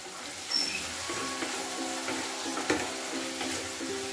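Two spoons of mustard paste hit hot oil with softened fried tomato in a pan, giving a steady soft sizzle and hiss with faint stirring scrapes, moderately quiet and without talk.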